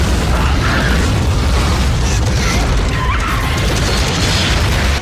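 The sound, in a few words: explosions in Starship Troopers 3 movie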